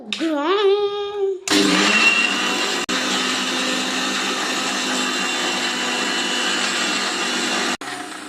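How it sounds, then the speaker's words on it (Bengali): A mixer grinder whirs loudly and steadily as it grinds cheesecake ingredients, with a brief voice just before the motor starts and one short break partway through. "তো তো মিক্সিতে গুঁড়ো করে নেবো।"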